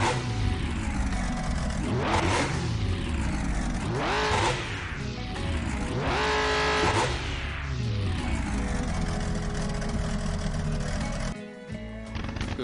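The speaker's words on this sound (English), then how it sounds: "We got the Camaro right there with the ginormous blower on top. That sounds just about right." A Camaro drag car with a huge supercharger blower revs in a drag racing video game. The engine roars loud and continuous, rising and falling in about three strong surges before a brief dip near the end.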